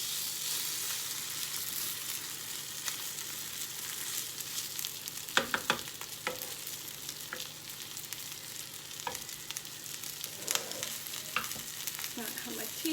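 Sweetcorn fritters fry in hot oil with a continuous close sizzle, broken by occasional sharp pops and scraping clicks from turning them in the pan.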